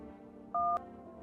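A single short DTMF keypad tone from a phone in the horror video game No, I'm Not A Human, one clean beep lasting a fraction of a second over quiet background.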